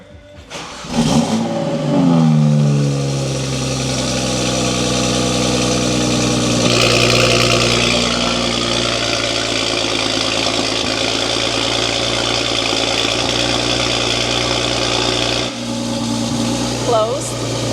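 A BMW 135i engine cranks and starts, then revs and settles into a deep, throaty idle through a loud aftermarket exhaust with an open valve, close up, with voices talking over it.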